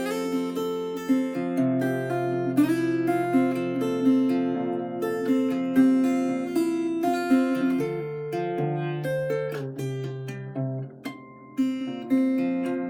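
Guitar plays the opening section of a song, moving through plucked notes and chord changes before a closing strum; a close, clear, continuous performance with no voices.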